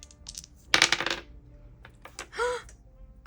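Dice clatter on a table in a couple of short bursts of rattling hits, close and fairly loud, with quiet room sounds between.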